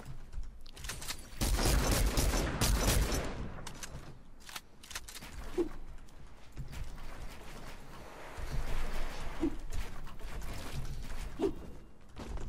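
Gunfire from a Fortnite-style shooting video game, with bursts of shots and a couple of sharp impacts scattered across a busy, fairly loud mix of game noise.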